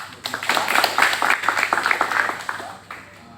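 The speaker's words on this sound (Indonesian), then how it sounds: "Berikan tepuk tangan" Applause from a classroom audience, scattered claps building quickly and then tapering off over a few seconds, fairly close and moderately loud.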